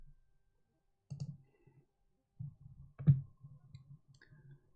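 Sparse keyboard typing clicks, quiet and close, come in short irregular bursts separated by silent gaps.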